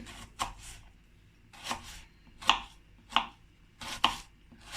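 A knife chops onions on a cutting board, six crisp, close strikes spaced evenly about two thirds of a second apart, over a quiet background.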